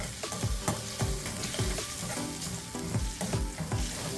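Garlic frying in hot oil for bhelpuri chutney, a dense continuous sizzle broken by regular scraping stirs of a spoon in the pan, close and steady throughout.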